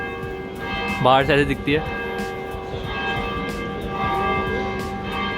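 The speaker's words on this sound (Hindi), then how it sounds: "और घंटा बज चुका है क्योंकि टाइम हो रहा है 7।" A church bell rings near Galata Tower in Istanbul, a few resonant strokes with a long ringing decay, heard alongside someone speaking nearby.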